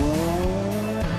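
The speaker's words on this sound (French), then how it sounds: "Arriver, freiner bien fort, tirer le frein à main" A rally car engine buzzes at high revs while tires squeal and skid under hard braking with the handbrake pulled into a tight hairpin, continuous and close, with no talking.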